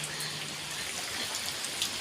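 Steady rain falls during Cyclone Remal in Balasore, a dense, even patter of drops hitting surfaces nearby, with no voices.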